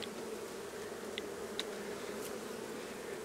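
Honey bees buzz around an open beehive on a farm, a steady close swarm hum with a few individual bees darting past.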